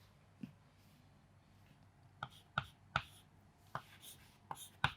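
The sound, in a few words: writing the definition on a board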